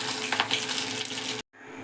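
Maggi noodle nests frying in oil, a close hissing sizzle that runs steadily, then cuts out abruptly to near silence before a fainter hiss returns.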